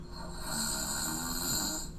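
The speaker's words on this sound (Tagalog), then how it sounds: "Ayun, may humihilik" A person snoring steadily and loudly, one long rasping breath filling the whole stretch with a rough low rumble, recorded close, no talking.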